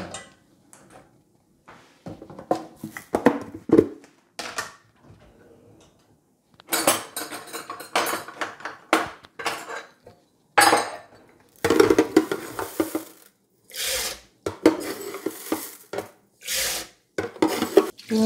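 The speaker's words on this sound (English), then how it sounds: "You need to wash your rice properly so that it won't be too starchy" Rice being washed by hand in a metal pot, with repeated scraping, rubbing and clattering of grains and water against the pot, in bursts separated by short pauses, close and fairly loud, with no talk.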